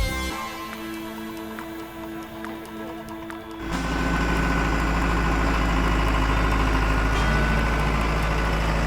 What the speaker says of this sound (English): The engine roars, the wheels spin, the log is stuck in the ground, lifting the tractor up.